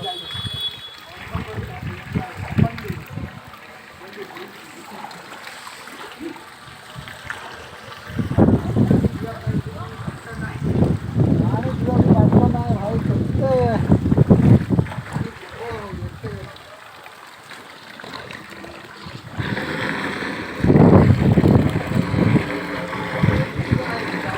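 Heavy rainwater floods and flows across a rooftop during a downpour, giving a rough, rushing wash that rises and falls over time while people talk throughout.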